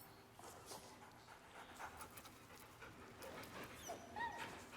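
A dog in the Baldur's Gate video game panting softly and letting out faint whimpers after being petted, quiet and close, over low game ambience.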